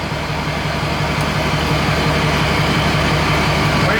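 A truck engine runs loud and close, a dense steady roar with a constant low hum and no clear rise or fall across the stretch, with no voices.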